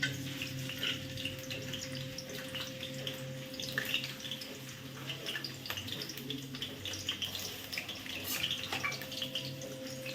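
Ginger sizzles in hot oil at the start of a paneer fried rice, a continuous hiss with a crackly texture and a faint steady hum beneath, at an even moderate level.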